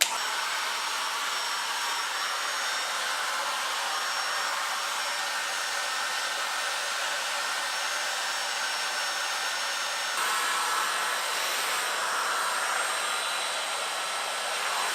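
A hair dryer fitted with a Bellissima diffuser blowing steadily for the whole stretch, a loud, close, airy whir that shifts slightly in tone partway through.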